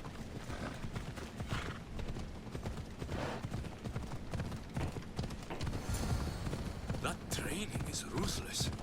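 Horse hooves clop continuously in Assassin's Creed Odyssey, a steady rhythmic galloping under busy game ambience with occasional whinny-like sounds, fairly close and moderately loud.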